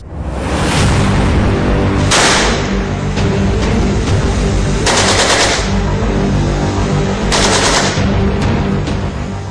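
Sustained bursts of automatic gunfire from Indian Army soldiers storming a room, loud and close, with rapid overlapping shots and a few sharper cracks throughout.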